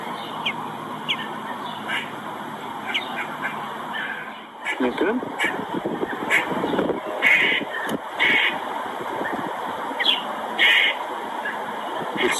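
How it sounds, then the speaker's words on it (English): A rescued baby bird gives short, high chirps in repeated bursts over steady outdoor wind noise, with a person speaking briefly partway through. "now you can hear his little chirps"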